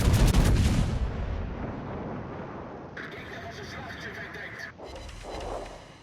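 A naval gun salvo booms from a warship in World of Warships, a loud blast up front fading into a rumbling tail, then mechanical whirring and a further low thump, with talking over it.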